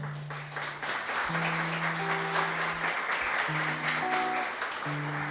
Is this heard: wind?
no